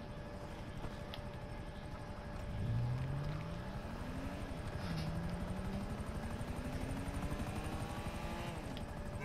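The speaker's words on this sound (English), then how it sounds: "I got a helicopter." A helicopter in the video game Grand Theft Auto V: a steady rotor drone runs throughout, with engine pitch rising and sweeping in two long arcs as it spools and maneuvers, loud and close with no talking.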